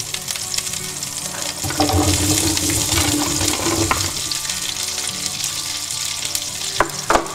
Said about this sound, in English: I'm going to saute these, keeping an eye on them, in the butter and olive oil.